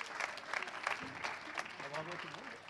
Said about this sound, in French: on peut encore les applaudir à tout rompre.